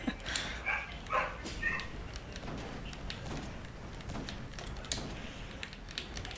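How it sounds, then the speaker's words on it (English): A dog barks in short, faint bursts from somewhere away from the microphone, scattered over a noisy background. "he's barking."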